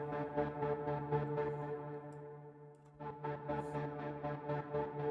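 Heavyocity NOVO string patch with a comb filter setting, a sustained tonal texture pulsing in quick rhythmic ticks. It dips briefly at the midpoint, then resumes at steady moderate level with no voice.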